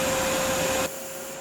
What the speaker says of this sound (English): turning the vacuum cleaner on, which provides the suction